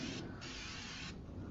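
A can of 3M 45 general purpose spray adhesive being shaken, a steady rattling hiss that runs continuously and close up, with brief changes in brightness partway through and no talking.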